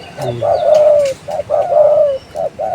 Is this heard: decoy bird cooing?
yes